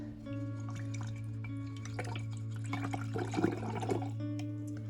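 Water dripped and trickled onto art journal paint, a few soft splashes and drips over a steady low hum.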